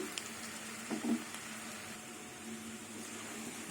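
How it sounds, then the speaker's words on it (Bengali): Tender bottle gourd stalks frying with mung and masoor dal on a very low gas flame, a faint, soft, even sizzle with a few quiet stirring bumps, no talk. "ডালের সাথে কিছুক্ষণ একটু ভেজে নেব গ্যাসের আগুনটা একদম কমিয়ে দিয়েছি"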